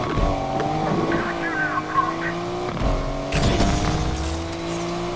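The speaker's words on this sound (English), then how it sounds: "Suspect losing control of their vehicle!" A car in the Need for Speed Unbound racing game skids out of control with a sustained engine whine and tire squeal, then a sudden rough burst of noise as it slides, heard close and loud.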